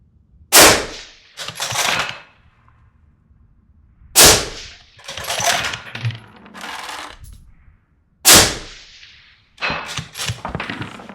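Three suppressed .22 bolt-action rifle shots, each a sharp crack followed quickly by the clack and rattle of the bolt being worked, spaced about four seconds apart and close to the microphone.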